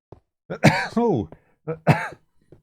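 A person with a sore throat gives a few short coughs and throat-clearing bursts in two quick clusters, close and fairly quiet.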